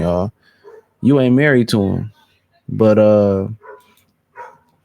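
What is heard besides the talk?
dog barking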